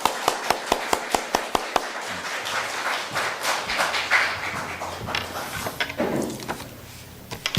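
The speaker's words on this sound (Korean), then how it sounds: "박수하도록 하겠습니다" A church congregation at a Sunday worship service claps to welcome a pastor, opening with a few sharp, evenly spaced claps that swell into dense, sustained applause filling the room.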